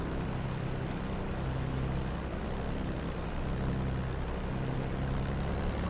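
A P-51 Mustang's propeller engine drones steadily in the DCS flight simulator, a constant low rumbling hum that fills the whole stretch at fairly low level with no talking.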